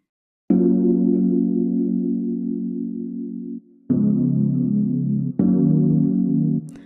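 Three sustained synth seventh chords, the first held long, the next two shorter, with a warm chorused tone and brief gaps between them.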